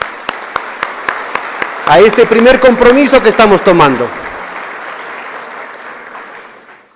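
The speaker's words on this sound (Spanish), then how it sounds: "Yo quisiera saludarles con un aplauso" Audience applause at the opening session of an economics conference, a dense stretch of clapping lasting about two seconds under a speaker's voice, then fading as he carries on talking.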